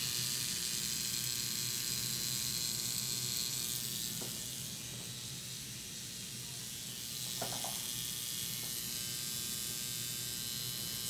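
A microneedling pen with a 36-pin needle runs as a steady, quiet electric buzz close by during a facial skin treatment, with faint ticks and handling noises over it.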